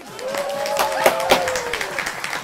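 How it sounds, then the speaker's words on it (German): An audience claps for a child finishing a gondola rescue exercise: lively applause with distinct sharp claps, joined by a rising, wavering voice or whistle-like cheer. "Applaus für Jendrik."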